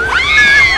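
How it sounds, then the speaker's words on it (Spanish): A short, excited high-pitched scream from a fan at a Harry Potter film premiere in Lima, a single rising shriek of under a second, loud and close against crowd noise. "Un gritito."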